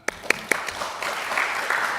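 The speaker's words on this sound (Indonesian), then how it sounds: "kita kasih tepuk tangan" Attendees at an Indonesian parliamentary Commission III hearing with advocates begin applauding: a few sharp separate claps at first, then building into a modest continuous round of clapping from a mid-sized group.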